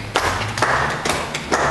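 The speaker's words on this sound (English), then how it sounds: "Clap for her." A handful of hand claps at a farming talk, several distinct slaps spaced unevenly and close by over a low background hum, no voices.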